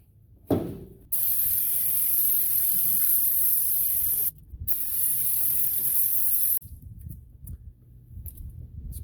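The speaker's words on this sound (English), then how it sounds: "I'm gonna go ahead and spray off this oily junk" Two long bursts of a pressure sprayer hiss loudly as oily grime is blasted off the underside of a rusty Subaru, with short pauses and clanks between them.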